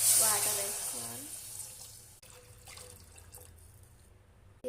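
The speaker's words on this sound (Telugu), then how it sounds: "ఆనియన్స్ ఫ్రై అయిన తర్వాత వాటర్ వేసుకోవాలి." Water poured into a pan of fried onions, ginger and garlic paste for bagara rice, a brief close splash and pour that fades into a low simmer, with a voice over the start.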